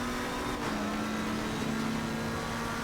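A race car engine in a sim racing game drones and climbs in pitch while accelerating off the launch, a steady mid-loud mechanical roar with no talk over it.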